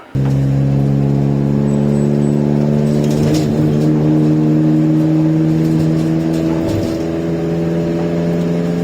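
A car fitted with a homemade exhaust built from universal silencers revs hard, a loud droning roar with strong steady harmonics that swells briefly in the middle and then settles, close and alone.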